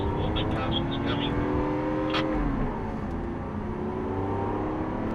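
A Lamborghini Aventador SV, 740 bhp, revs on a racetrack in second gear at about 5,000 rpm. The engine drone is loud and close with a rising then falling pitch, and a voice talks over it.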